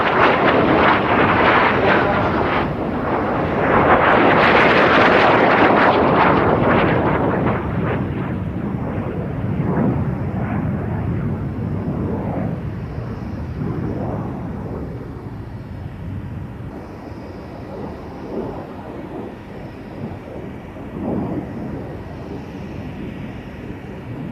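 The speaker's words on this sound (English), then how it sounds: "Silver aircraft, Kennet Aviation, taking it out, red one, another Kennet aircraft" Aircraft from Kennet Aviation, a silver one and a red one, fly at the International Ayr Show in 2024. The engine roar is loud and swells to a peak early on, then fades into a steady, windy drone.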